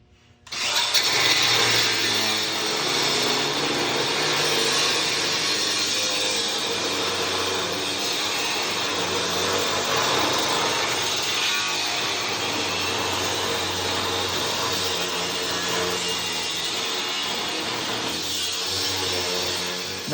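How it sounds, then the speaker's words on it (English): Power tool cutting away the core support of a 1950 GMC truck during an S10 frame swap, a steady loud grinding whine running continuously for about twenty seconds with no talk. "So we're going to have to do some cutting, take some of that core support out"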